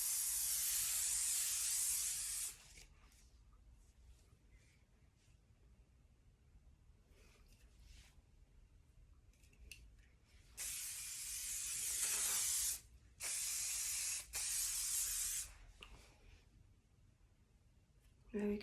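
Hairspray misted from an aerosol can over a vintage hair set, with several bursts of close, bright hissing, a long one at the start and a cluster of shorter puffs later, separated by quiet pauses.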